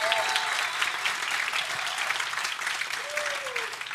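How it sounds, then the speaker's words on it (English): Steady applause from a church congregation fills the whole stretch, dense and sustained, with a few faint voices and a brief whistle-like tone rising over it. "Let's give those kids a huge round of applause."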